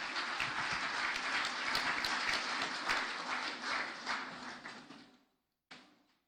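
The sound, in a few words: audience applause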